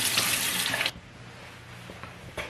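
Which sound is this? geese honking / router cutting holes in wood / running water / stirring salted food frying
running water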